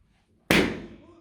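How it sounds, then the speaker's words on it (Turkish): A single loud balloon pop bursts out of near silence, then decays quickly. "Balonların hepsi patlayacak."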